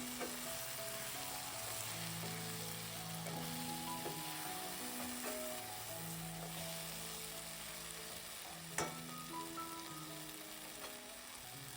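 Brinjal stir-fry sizzles and fries in a pan while being stirred and mixed, with a steady crackle, soft scraping strokes and one sharper clink near the end, no talking.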